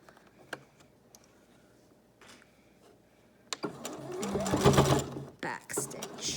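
A sewing machine with its walking foot lowered runs through thick, heavy blanket fabric, a dense motor whir and rapid needle clatter that starts after a few faint ticks and builds loud near the end, with a voice talking over it.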